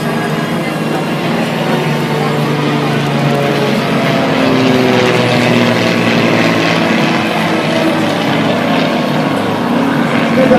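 Propeller aircraft of a flight team performing aerobatics at the Chicago Air & Water Show produce a loud, sustained engine drone with a shifting pitch, steady throughout and heard outdoors.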